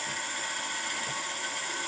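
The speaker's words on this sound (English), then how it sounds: "So I'm going to drill up to this mark," Drill boring into a wooden pepper mill blank, a steady whirring grind with faint mechanical clatter, continuous and fairly quiet, heard close up with no talking.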